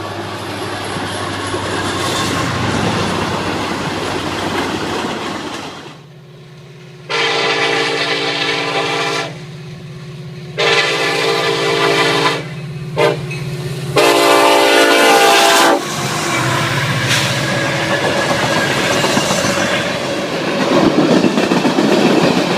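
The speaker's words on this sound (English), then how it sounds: "Here's an unusual train of empty flat cars" A freight train of empty flat cars passes in the open country of Colorado with its horn sounding in several long blasts, over a continuous rumble and clatter of wheels that carries on after the horn stops.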